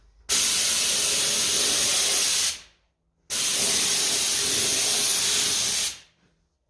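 Two bursts of loud, steady hiss from a compressor spray gun at 100 psi painting Ferguson 20 TEF tractor wheel rims, each lasting about two and a half seconds with a sharp start and a tapering stop.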